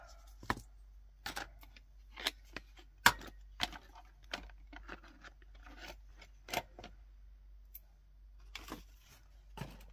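Scissors snip through craft foam in a series of sharp, close, crisp clicks and short cuts, irregularly spaced, with quiet pauses between them.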